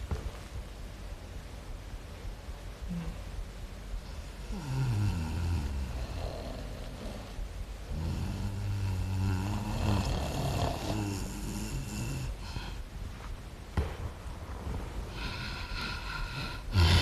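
A person snoring, slow heavy nasal snorts and rasping breaths repeating irregularly at close range, with some background noise and no clear talking.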